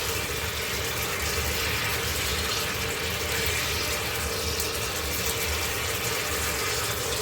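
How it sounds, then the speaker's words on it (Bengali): Water pours into a pan of cooking fish curry in a home kitchen, a steady, continuous rushing splash that runs unbroken for about seven seconds with no talking. "এবার একটু জল দিয়ে দেবো"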